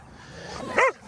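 A dog playing with a ball lets out a single short bark, close and fairly quiet, preceded by a faint whine or yip.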